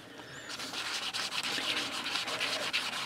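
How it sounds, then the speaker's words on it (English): Polymer clay is scraped with rough 80 grit sandpaper in a steady, close rasping rhythm of repeated strokes, alone without voices. "you can get a really rough sandpaper, like maybe an 80"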